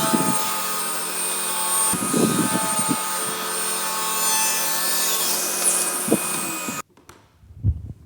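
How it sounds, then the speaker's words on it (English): A mahogany board being ripped into a one-inch by three-quarter-inch strip on a saw. A loud, steady cut runs for about seven seconds and then stops abruptly, leaving a brief rumble and a couple of soft knocks. "we're going to rip off a 1-inch wide strip"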